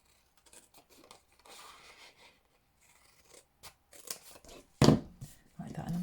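Scissors snip through cardstock pieces in short, quiet cuts and rustles, close by, ending with a few louder sharp snips and paper handling.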